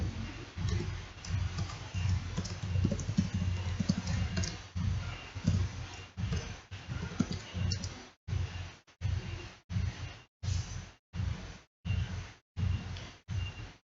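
Computer mouse clicks and keyboard typing while working in EViews statistics software, dense and busy at first, then settling into separate short bursts of clicks with quiet gaps between them.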